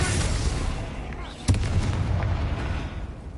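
A single sharp spell blast from a Harry Potter video game hits at mid-clip and booms out over a steady rumble of game ambience and battle noise.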